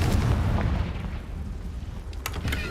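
A Confringo fire spell from the Hogwarts Legacy video game bursts with a deep, heavy boom, followed by a rumbling decay and a few sharp crackles toward the end.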